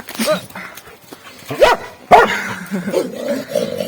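A dog gives a few short barks and yips close by, mixed with a person's voice speaking to it.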